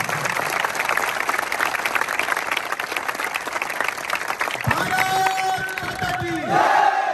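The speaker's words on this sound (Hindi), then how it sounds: "एक बार जोरदार ताली बजा दी" A crowd at a physical recruitment test academy claps loudly and steadily for several seconds, joined near the end by a few shouts and cheers.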